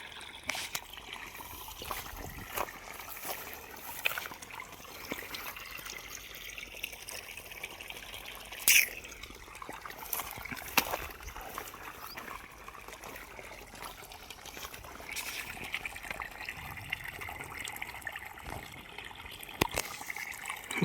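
Water streams steadily from the 1.25-inch delivery pipe of a 3 HP solar bore-well pump, a continuous splashing gush with small fluctuations throughout.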